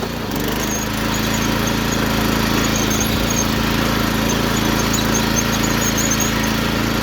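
Mini tractor engine revving and accelerating into third gear, a steady loud mechanical drone with whining tone that holds strong throughout, no talk over it.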